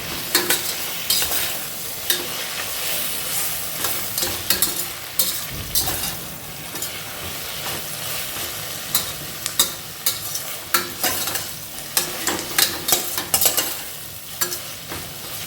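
Mint leaves being sautéed and stirred into mushroom biryani masala in a pan, with a steady soft sizzle and repeated scraping stir strokes of a spoon, close and fairly loud, no talking.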